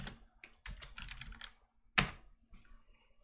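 Quick, quiet keystrokes on a computer keyboard during animation software work, a short burst of taps followed by one sharper, louder key hit and a few faint final presses in a quiet room.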